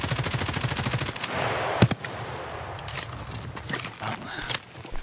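Long unbroken automatic gunfire burst in the video game Escape from Tarkov, rapid regular shots for over a second, then scattered distant shots and a sharp crack over game ambience.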